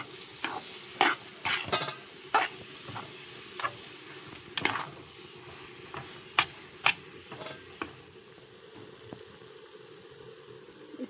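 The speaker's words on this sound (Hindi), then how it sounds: "ड्राई मिल्क जो है वो मैं थोड़ा थोड़ा करके डालती रहूँगी और इसको हिलाते रहेंगे।" Carrot halwa being stirred in a pan as dry milk is added bit by bit, giving a soft sizzle under a series of sharp, uneven spatula knocks and scrapes against the pan, close and clear with no voices.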